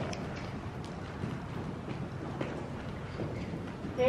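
Horse hooves thud and clop irregularly on the ground amid wind noise, moderately close, with a brief voice at the very end.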